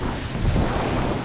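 Ocean waves wash and break steadily on the beach at Playa del Carmen, a loud, continuous broadband roar mixed with wind buffeting the microphone, with no one speaking.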